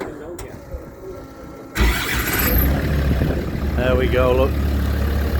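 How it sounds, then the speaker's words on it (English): A diesel engine cranks and catches, then settles into a steady low idle that stays close and fairly quiet. Someone speaks briefly over it just as it fires up, and an outdoor ambience runs underneath. "it's a diesel engine, but we can have a look at it running"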